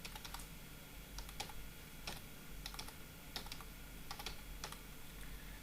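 Keystrokes on a computer keyboard as a project name is typed, a quick irregular run of crisp clicks close up over a low steady hum, with no talking.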